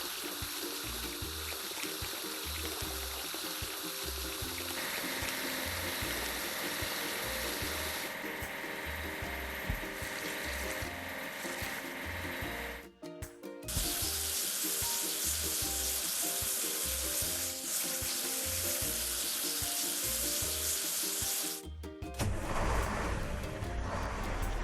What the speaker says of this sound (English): Now we need to wash it clean.